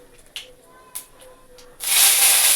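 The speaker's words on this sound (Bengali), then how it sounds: "এই যে কালো জিরে দেওয়া হলো।" Black cumin seeds drop into hot oil and erupt into a loud, sustained sizzling hiss that swells suddenly after a few quiet clicks and light taps, close to the pan.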